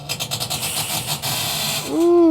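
The auger of a pellet smoker makes strange grinding noises: a rough, pulsing scrape that turns into a steady, rising mechanical whine. It is close and fairly loud.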